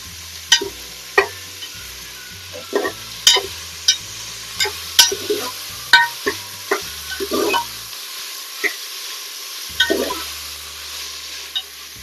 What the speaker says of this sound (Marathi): कांदा आपल्याला छान तेलावर परतवून घ्यायचा आहे